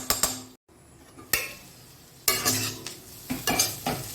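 Spices fry in a covered pan with soft sizzling, broken by several sharp clinks and scrapes of the lid and spoon against the pan, close and fairly quiet.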